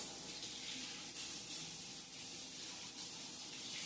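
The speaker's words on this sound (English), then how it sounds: "I can give these tomatoes a good scrub" Tomatoes being scrubbed by hand under a running kitchen tap, a steady hiss of water with rubbing and splashing throughout, close and fairly quiet, with no voices.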